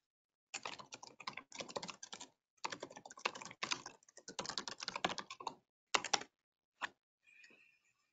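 Bursts of fast computer keyboard typing while entering a command for Terraform on Azure, clattering in quick runs separated by short pauses, then a few isolated keystrokes and a final soft tap, close and clear with no talking.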